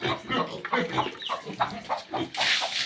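Chickens cluck repeatedly close by on a pig farm in short, uneven bursts, ending with a sudden rush of hissing noise.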